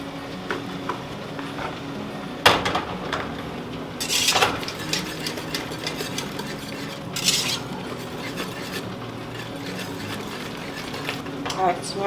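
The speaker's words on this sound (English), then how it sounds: "I'm going to whisk in the pectin" A whisk stirs powdered pectin into spiced apple preserves in a pot, scraping and clinking against the metal in uneven bursts with a few sharp knocks, under a steady background hum.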